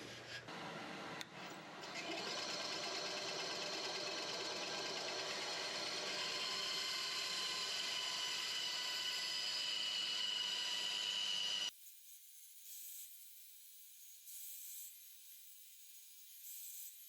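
A saw steadily cuts through a wooden MLB baseball bat held on a small sled, a continuous close grinding whine lasting about ten seconds before cutting off abruptly to near silence.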